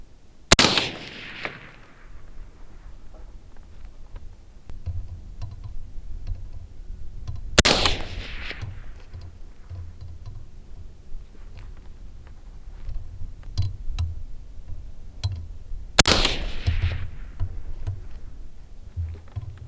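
An AR-15 rifle fires reloaded ammunition outdoors at a long-range setting: three loud, sharp shots spaced several seconds apart, each with a short echoing tail, over quiet background noise.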